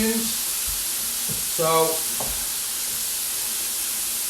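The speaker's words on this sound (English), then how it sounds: "pork goes on like that, turn it over, we've got to see that beautiful brown caramelisation going on in the meat there" Pork loin sizzles steadily in a hot pan while browning, a continuous close frying hiss throughout, with a brief voice and a few clatters over it.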